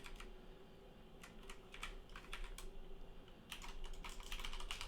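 Typing a search query on a computer keyboard: short bursts of close, crisp key taps with brief pauses between, over low room hum and no talk.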